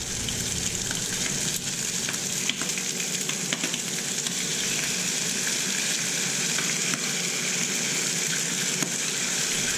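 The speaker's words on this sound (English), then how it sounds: "I'm going to start brushing it with the red pepper paste" Squid grills over heat as red pepper paste is brushed on, producing a loud continuous sizzle with faint scattered crackles and ticks throughout, close by and without talking.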